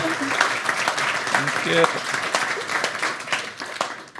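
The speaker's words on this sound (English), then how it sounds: "So now I'm expecting your applause from me first." Applause breaks out among a conference crowd, many hands clapping briskly for about four seconds while a voice briefly speaks over it.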